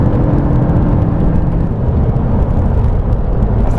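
McLaren 570S V8 engine while driving, a steady loud low rumble with road and wind noise filling the cabin throughout.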